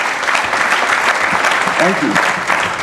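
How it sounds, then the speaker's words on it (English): Loud, sustained applause from the crowd at a Diwali gala, clapping continuously while someone speaks briefly over it. "You're applauding yourself"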